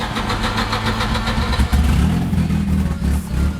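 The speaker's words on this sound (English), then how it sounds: "Start this thing up" A Volvo 740 drift car's engine runs close by, a loud rough idle with a dense rumbling drone and a brief surge in revs partway through, continuous with no talk.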